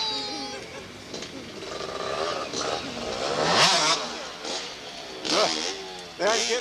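A motorcycle at a 1988 Thanksgiving hillclimb, its engine revving and rising in pitch in repeated bursts, fairly close and loud, with voices talking over it.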